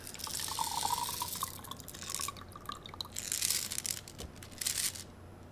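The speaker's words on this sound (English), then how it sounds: "So let me dump the water out." Water is poured out of a lab container holding glass beads, producing a soft, close trickling and splashing that comes in uneven bursts with a few faint drips.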